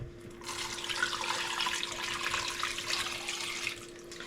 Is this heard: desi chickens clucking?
no